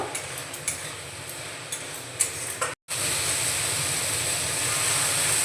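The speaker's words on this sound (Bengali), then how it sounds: "ভালোভাবে কষিয়ে নেব।" Ground coriander and Kashmiri chili powder sautéing in a pan for a taro and spinach dish, giving a steady close sizzle with a few light scrapes of stirring and a brief cut midway.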